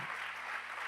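A church congregation applauds in a brief, even wash of many hands clapping together, moderately distant, with no voices standing out.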